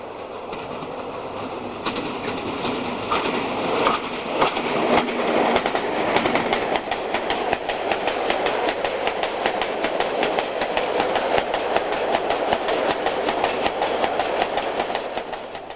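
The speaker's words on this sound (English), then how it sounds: "this is the new Drax to Kirkby Thor Gypsum train" A gypsum freight train running from Drax to Kirkby Thor on British Rail lines rumbles past with steady clickety-clack of wagon wheels over rail joints, building from moderate to loud and holding as the long consist rolls by.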